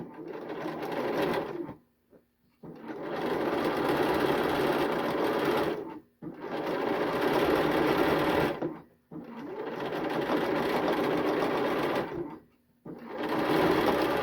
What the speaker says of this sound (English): And I'm going to start to sew.